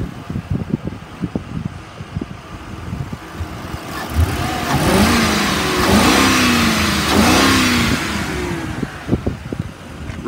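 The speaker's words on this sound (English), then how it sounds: "I'll rev it up for you." A 2010 Ford Crown Victoria Police Interceptor V8 idles with a steady rumble, then is revved twice in quick succession, each rev rising sharply in pitch and falling back to idle.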